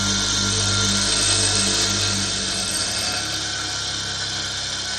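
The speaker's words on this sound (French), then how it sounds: "Pour meuler, on va meuler un petit peu." A grinder wears down the side of a metal collar for a homemade adjustable bipod, a loud, continuous high whine close by whose tone shifts slightly partway through, with no voices.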